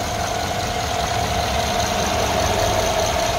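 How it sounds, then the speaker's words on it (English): A close, steady idle of a 2014 Mercedes-Benz ML550 4Matic SUV engine hums and rumbles evenly with a faint mechanical ticking, no voices present. "This engine's idling super smooth."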